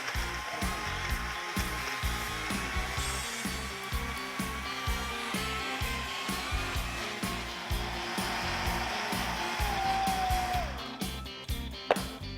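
A blender grinds a spice paste of toasted shrimp paste and water for a shrimp and stink bean dish, a loud steady whirring motor roar running continuously before winding down near the end, with no talk.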